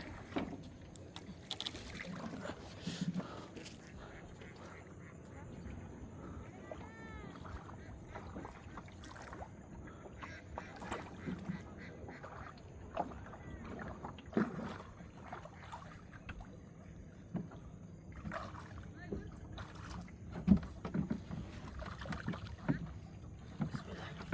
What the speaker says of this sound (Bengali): আমি এখন নৌকার উপরে।